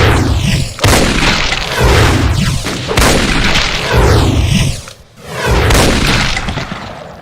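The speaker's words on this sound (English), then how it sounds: "Its ranged attack is firing a couple of Revenant missiles" Revenant missiles exploding in a Doom mod: a rapid series of four or five loud, close booms, each a sharp burst trailing into crackling rumble with whooshing sweeps between, alone without any voice.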